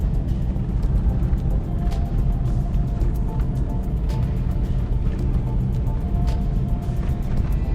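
A steady, loud car interior rumble with broadband road and engine noise as the car drives along Poyarkova Street in Yakutsk on an April morning, with faint ticks and clicks scattered throughout.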